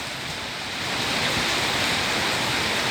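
Steady morning rain falls as a dense, even hiss of broadband noise, swelling slightly louder after the first second and holding constant with no voices.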